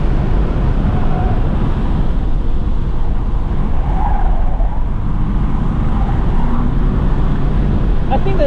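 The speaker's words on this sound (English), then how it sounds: "the car's trying to pump some fake audio in" Synthetic engine sound piped through the cabin of a Chinese electric sports car at full throttle on a racetrack, a steady droning hum mixed with heavy wind and road rush.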